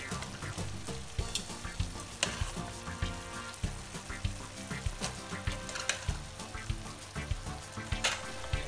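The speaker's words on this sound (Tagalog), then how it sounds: "So, ita-transfer na natin ito sa ating sauce." Cooked pasta is transferred into a pan of sauce with swordfish and breadcrumbs and tossed with tongs, producing a steady sizzle with regular clinks and scrapes of metal.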